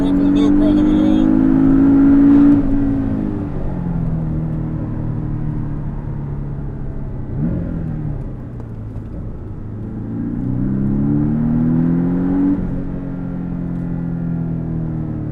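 Porsche 718 Boxster accelerating on Yas Marina Circuit, its engine note climbing and dropping as the car pulls through the gears, heard loud and steady from inside the car with a driver talking over it.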